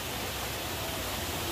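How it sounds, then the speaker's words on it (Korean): Artificial waterfall inside a tunnel at an arboretum, a steady, dense rush of falling water heard close and alone for a brief moment. "폭포가 나오게끔 만들어놨네."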